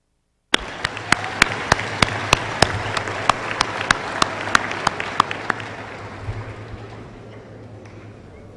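Applause from a high school commencement audience, opening with a row of sharp, evenly spaced close claps over a broad crowd wash that gradually thins and fades toward the end.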